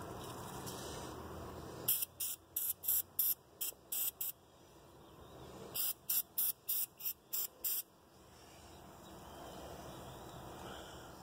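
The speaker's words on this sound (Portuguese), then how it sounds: "Passar um pouquinho de spray óleo. Que é o chamado WD-40," Short bursts of WD-40 oil spray are aimed into the mechanism of an STAM electric door lock, two quick runs of about six hissing puffs each, close and distinct, with a quiet background between them.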